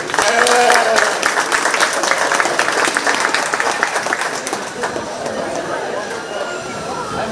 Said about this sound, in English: let's give this class a big round of applause